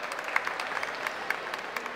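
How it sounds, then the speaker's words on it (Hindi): A stand-up comedy audience applauds with dense, continuous clapping at a steady, moderately loud level, with a few sharper claps standing out. "तालियां थोड़ा बजा सकते हैं आप लोग।"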